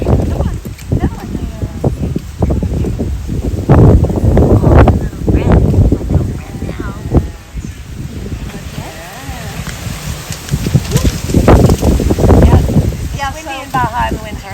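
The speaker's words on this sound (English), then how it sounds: "Windy in Baja in the winter." Gusty winter wind in Baja, Mexico buffets the microphone in loud low rumbles, with people talking over it throughout.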